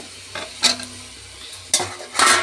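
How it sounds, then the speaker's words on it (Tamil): Chopped vegetables such as beetroot, carrot and beans are stirred in hot oil in a pan, heard as a soft background sizzle broken by a few sharp spatula scrapes and clinks. "மறுபடியும் எண்ணெயிலேயே நல்லா கிண்டி விடுங்க"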